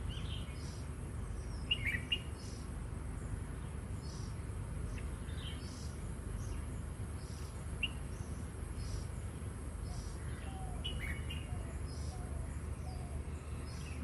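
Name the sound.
birds calling outdoors, doves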